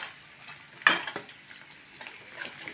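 Cloves, tomato, ginger and garlic frying in a pan for mutton sambar, a soft low sizzle with a sharp clink of a utensil against the pan and faint scraping stirs.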